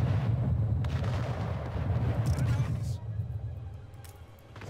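Ships firing cannons during a naval battle in Anno 1800, a series of heavy booming shots and rumbling blasts, loud then easing off toward the end, with someone talking over them.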